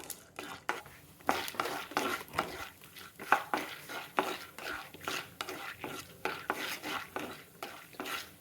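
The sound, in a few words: cashews and chana dal roasting in ghee in pan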